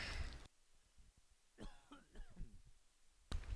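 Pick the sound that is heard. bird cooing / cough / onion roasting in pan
cough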